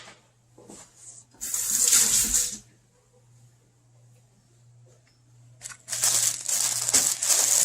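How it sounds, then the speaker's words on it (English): Parsley stems rinsed under a running kitchen tap, with two loud bursts of splashing water separated by a quieter pause and a steady low hum underneath. "All right, I'm going to rinse these off."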